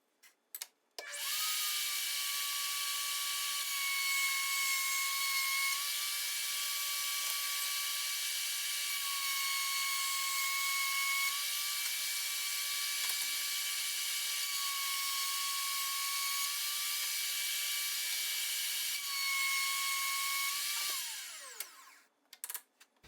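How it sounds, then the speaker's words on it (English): A router table cuts a groove in wooden end and side pieces for a serving tray, its motor spinning up to a steady high whine that holds for about twenty seconds with faint pitch dips, then winds down. "I can power on the router, and I can do my last pass on all 4 pieces."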